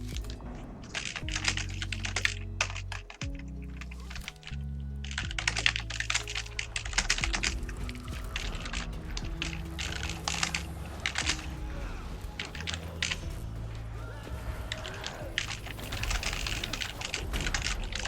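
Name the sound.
typing on a computer keyboard in map chat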